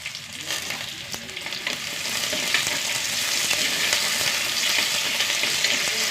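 Small onions sizzle and crackle in a pan alongside garlic, cumin and curry leaves, a continuous close frying hiss that swells slightly midway and holds steady with occasional stirring.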